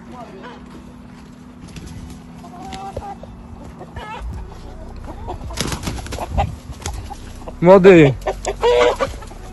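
A young rooster clucks and crows on a farm, with a loud harmonic crowing burst near the end following scattered clucks, set among people talking, footsteps and other farmyard noise.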